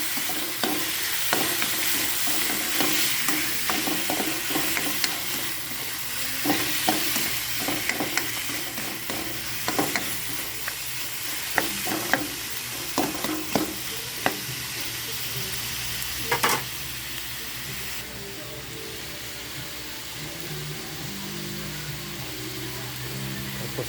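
Pork sizzling and frying in a hot pan at a roadside cooking spot, a steady close hiss running throughout with repeated scraping stirs and clinks on top.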